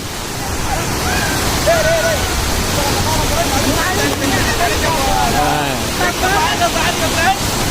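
Water rushes steadily over a village weir at Kalungupatti, a loud continuous broadband flow close by, with several voices talking and calling over it throughout.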